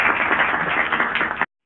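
An audience clapping together in a dense, steady burst of applause lasting about a second and a half before cutting off abruptly into silence.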